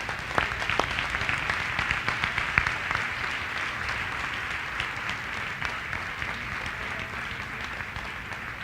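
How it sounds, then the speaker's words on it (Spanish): Steady applause from a church congregation during a Sunday morning sermon, a dense, even patter of many hands clapping at a moderate distance, sustained without a break and with no talk over it. "Dele un aplauso al Señor esta mañana."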